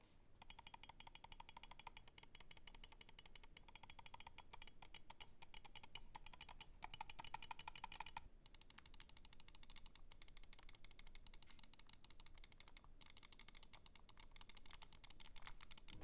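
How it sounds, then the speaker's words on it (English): Omron switches in a Logitech Superlight 2 gaming mouse clicking softly and rapidly in dense, even bursts, close and quiet with no talk. "The Omrons have a softer click comparatively, and they produce significantly less noise."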